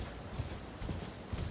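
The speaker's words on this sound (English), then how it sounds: "I'm on a horse." Horse hooves clip-clop in the Elden Ring: Shadow of the Erdtree video game, a soft, steady run of low thuds under a dense ambient bed, with a few heavier hits near the start and end.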